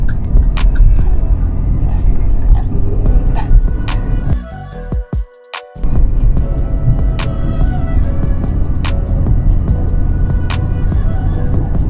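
A car drives steadily through a driving exam course in Adana, with its engine and road rumble continuous and close throughout, a brief dip midway, and faint ticks of the turn signal.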